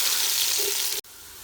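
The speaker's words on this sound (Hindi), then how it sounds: "दही तकरीबन भुन लिया था" Yogurt and garam masala fry with browned onions in a pot, a dense close sizzle that cuts off abruptly about a second in and leaves only a quiet background hiss.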